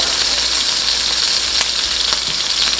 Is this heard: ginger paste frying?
yes